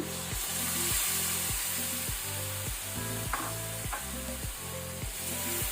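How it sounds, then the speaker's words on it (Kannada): Tomato paste frying in a pan for a paneer capsicum gravy, giving a steady close sizzle broken by repeated rhythmic scraping strokes of a spoon stirring, with no talk over it. "ಇದನ್ನು ನಾವು ಈಗ ಒಳ್ಳೆ ರೀತಿ ಫ್ರೈ ಮಾಡಬೇಕು, ಟೊಮೆಟೊದ ಹಸಿ ವಾಸನೆ ಹೋಗೋ ತನಕ"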